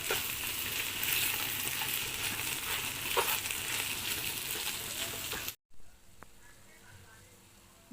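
Basmati rice sizzles as it is stir-fried with saffron in a pot, giving a steady crackling hiss for several seconds, then a brief silence followed by a quieter, softer sizzle.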